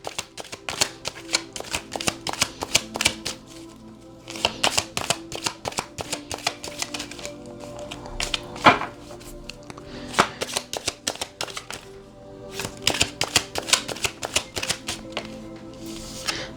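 Tarot cards shuffled by hand in a long run of rapid, crisp riffling bursts with brief pauses between, close and moderately quiet, with no talking.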